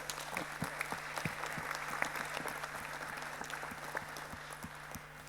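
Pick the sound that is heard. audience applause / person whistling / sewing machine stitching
audience applause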